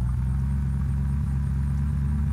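Car engine in the video game Unturned idling at a steady low rumble, loud and close, with no talking over it.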